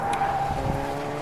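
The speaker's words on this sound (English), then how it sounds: "Is that a car that I could drive?" A drivable car in the video game Fortnite, Chapter 2 Season 4, gives a steady, loud engine hum with a faint tire-squeal edge, running continuously without talk.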